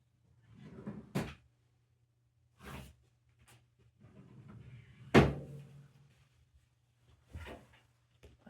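Drawer handled repeatedly while searching indoors, several distinct knocks and thuds of opening and closing with rustling between them, close by and without talk.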